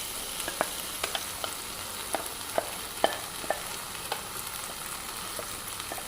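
Cooked moong dal being stirred into a spinach (bachali) curry in a pan, soft spoon knocks and scrapes recurring at irregular intervals over a low sizzle, with no talking.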